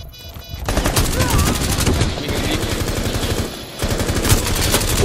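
Automatic gunfire in Rainbow Six Siege Terrorist Hunt mode, loud sustained bursts of rapid shots running nearly throughout, with a brief lull before resuming, while game sounds mix underneath.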